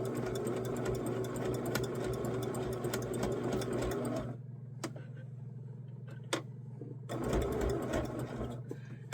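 A sewing machine stitches along the edge of an appliqué piece in steady, close, fast bursts. It pauses briefly while a few light clicks are heard, then runs again.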